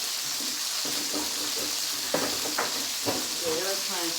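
Beef rouladen frying in a pan, a steady close sizzle with a few utensil scrapes and clatters as the meat is turned over.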